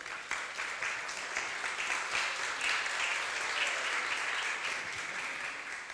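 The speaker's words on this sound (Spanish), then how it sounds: "Démosle un fuerte aplauso." An audience at a church vocational gathering gives a strong, sustained round of applause, with steady even clapping and no talking over it.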